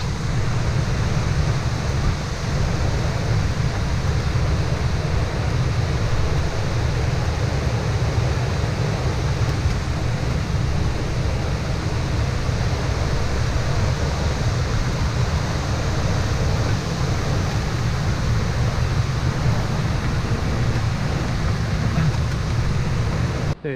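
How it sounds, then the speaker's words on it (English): A large waterfall on a rainy day trip, heard as a loud, steady, unbroken rush of falling water that fills the whole stretch with no voices. "Very impressive waterfall."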